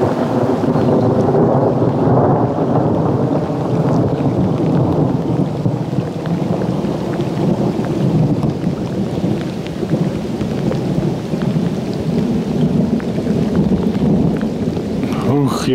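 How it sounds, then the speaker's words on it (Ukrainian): Heavy rain pours steadily during a thunderstorm at a night fishing spot while deep thunder rumbles loudly and continuously throughout. "Ух, яке гриміння"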